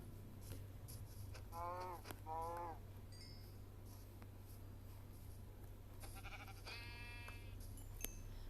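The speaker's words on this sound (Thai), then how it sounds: "บอกแล้ววัวแม่งเยอะ" Cows in Minecraft give a pair of low, drawn-out moos, then another longer call a few seconds later, all faint against a soft steady game hum.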